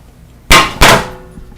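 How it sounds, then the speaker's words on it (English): Two sharp metallic strikes of a hammer tapping a screwdriver through sheet metal, about a third of a second apart, loud and close, each ringing briefly before fading. "Just kind of tap a hole through with the screwdriver and a hammer."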